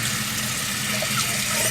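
Running sink water rinses foundation and soap lather from a makeup brush, a steady close hiss of flowing water with a faint squeak near the middle, continuous throughout.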